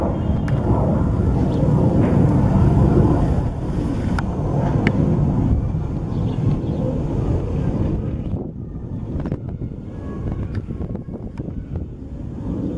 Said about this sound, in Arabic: طيران الحرب سوف يقوم الآن بشن غارة على مدينة حمص